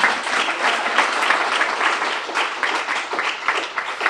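Audience applause for Montclair State University students running the AV at a talk, a dense, steady wash of many hands clapping throughout with no pauses.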